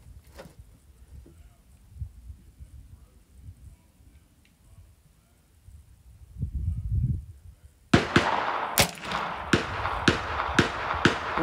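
A rifle at a 200-yard range fires a rapid string of about six sharp, loud cracks in quick, even succession after a long stretch of quiet outdoor background.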